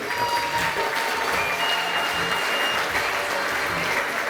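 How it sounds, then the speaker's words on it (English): A room full of people clapping steadily and loudly, dense applause with faint cheers mixed in, continuing without a break. "Put your hands together for Sarah Strands and David Minnie."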